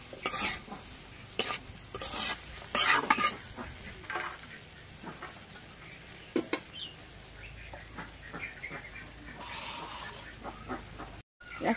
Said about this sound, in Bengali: এখন একটু জিরা বাটা রসুন বাটা দিয়ে দিই। ভাজি একটু নাড়া দিয়ে দিই।